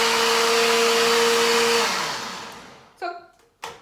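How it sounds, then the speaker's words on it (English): A kitchen blender whirs steadily with a loud motor hum while blending strawberries for strawberry lemonade, then winds down and stops, followed by two short thuds or clatters near the end. "I'm just gonna blend this here to make, and I've used strawberries"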